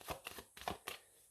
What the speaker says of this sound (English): Give it a big shuffle